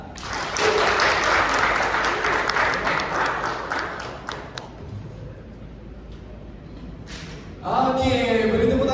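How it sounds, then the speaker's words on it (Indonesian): Audience applause for the Kabupaten Aceh Besar presentation at the Agam Inong Aceh 2022 pageant, a dense crowd clapping that fades over several seconds before an announcer's amplified voice cuts in. "beri tepuk tangan yang meriah untuk Kabupaten Aceh Besar"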